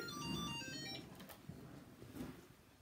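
A phone rings with an incoming call, repeated electronic ringtone pulses that are quiet and a little distant, with some shuffling and bumping around them.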